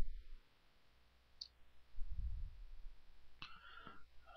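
A computer mouse clicks while software is being installed: a couple of faint, brief clicks in a quiet room, separated by low background hum.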